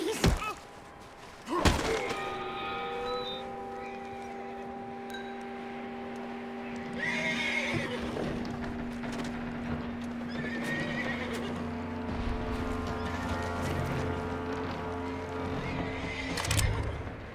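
A horse in Red Dead Redemption 2 neighs and whinnies while its hooves clip-clop steadily, with scattered thuds and knocks over a continuous low game ambience.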